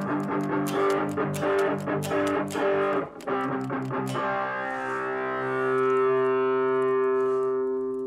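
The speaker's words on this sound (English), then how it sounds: "We can use some distortion as well. It sounds more harder, more give us more gain" An electric guitar through a distortion effect plays a run of rhythmic chugging notes, then rings out on a sustained, gritty chord that slowly decays, heard alone and close.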